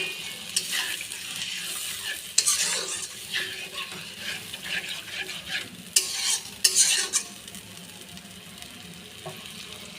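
Water goes into a pan of sizzling, oil-rich katla fish curry masala, bringing a steady fry hiss with sharper spitting bursts and a few stirring scrapes, close up and with no talking.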